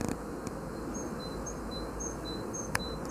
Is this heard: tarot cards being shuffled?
no